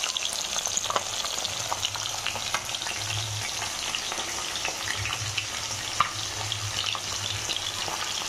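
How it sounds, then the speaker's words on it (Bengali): Fish sizzling in a frying pan while being fried for a mustard-poppy fish curry, a dense continuous crackle with faint stirring, close and even throughout, no voices. "এখানে মাছগুলোকে সব ভেজে নিচ্ছি।"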